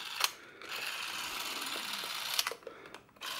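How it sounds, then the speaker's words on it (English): An Edixa 7810 M Super 8 film camera runs its shutter and motor with a steady close mechanical whir, punctuated by sharp clicks at the start and end, heard alone. "Shutter and motor work great together."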